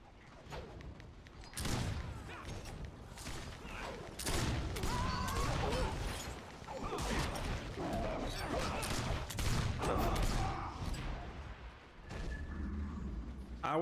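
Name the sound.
grenades and phosphor shells exploding in video game Warhammer Online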